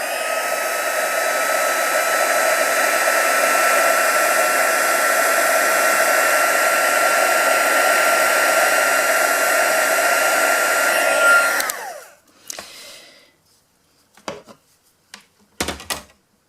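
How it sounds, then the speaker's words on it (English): A heat gun blows steadily to set stamped embossing, a loud continuous whooshing hum that runs for about twelve seconds, then winds down and stops, followed by a few faint clicks and handling knocks. "So, heat gun on again."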